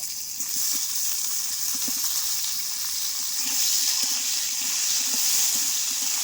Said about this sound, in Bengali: কেটে রাখা টমেটোটা আমি দিয়ে দেব।